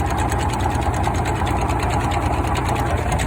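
A tractor drives a crop sprayer through a PTO driveshaft, giving a loud, close, steady mechanical whir and engine drone with a fast rattling texture and no letup.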